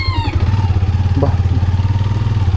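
A motorcycle engine idles close by with a loud, steady, throbbing pulse, and a brief voice is heard over it.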